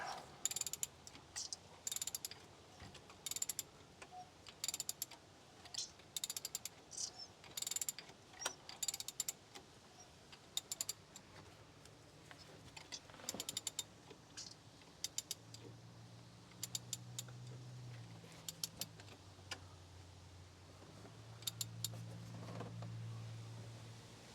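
A ratchet clicks in repeated bursts as it turns over a Jeep 3.6L V6 engine to line up the timing marks, close and fairly faint, with a low mechanical hum creeping in during the later turns.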